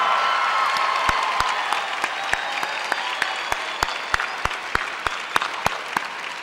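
An audience applauds the 2017 graduating class at a high school graduation ceremony, with continuous hall-filling clapping punctuated by sharp, regularly spaced single claps or thuds rising above the crowd.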